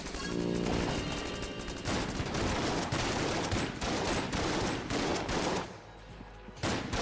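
Pulse cannon fire in the Mod the Gungeon video game comes as loud, rapid bursts of shots that stop briefly near the end and then start again.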